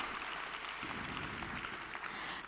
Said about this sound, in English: So just give yourselves a round of applause if you're here